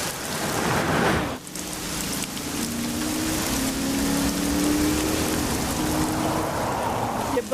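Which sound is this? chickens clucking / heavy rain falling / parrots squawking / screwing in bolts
heavy rain falling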